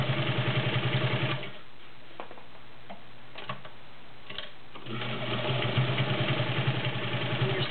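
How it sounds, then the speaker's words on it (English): Vintage Domestic 1465 sewing machine with a size 16 needle stitching through six layers of denim. A steady, rapid mechanical whir runs close up, stops for about three seconds, then resumes at the same pace. "I'm going to sew six layers of Levi's using a size 16 needle"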